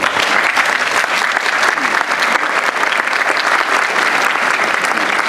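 An assembly applauds to approve the agenda, steady dense clapping from many people sustained throughout, loud and continuous with no breaks.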